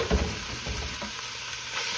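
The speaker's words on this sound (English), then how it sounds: "So I'm going to put my meat in here," Beef searing on the saute setting of an Instant Pot, giving a steady broadband sizzle with faint low knocks as the meat settles, close and fairly quiet throughout.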